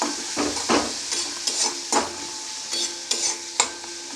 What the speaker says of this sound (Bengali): 1 চামচ হলুদের গুঁড়ো, 1 চামচ লঙ্কার গুঁড়ো দিয়ে এটা ভালোভাবে আমি 2 মিনিট কষাতে থাকব